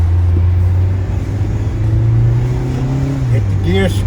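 A 2020 Mazda MX-5 Miata with the top down revs loudly up through its gears, the engine note climbing steadily before a quick shift near the end.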